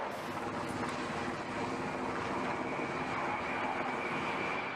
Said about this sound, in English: Here, they perform several maneuvers, which include takeoffs, flybys, and landings.